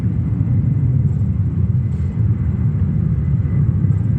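A steady, loud jet-engine roar from an aircraft taking off or landing at New York's JFK Airport, a dense, unbroken rumble holding constant for the whole stretch with no voices.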